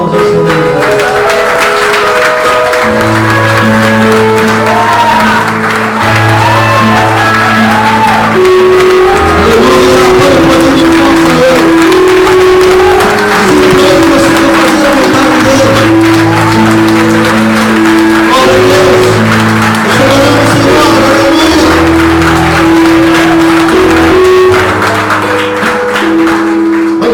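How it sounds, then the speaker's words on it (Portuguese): A church congregation standing to applaud, with loud, sustained clapping mixed with music and voices filling the room throughout. "fique de pé e dá uma salva de palmas ao Senhor"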